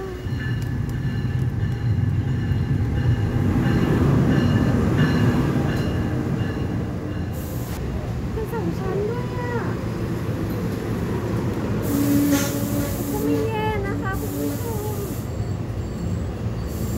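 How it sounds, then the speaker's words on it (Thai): A train rumbles past steadily, with wheels squealing and scraping metallically partway through; no voices. "มีเสียงรถไฟด้วยนะ"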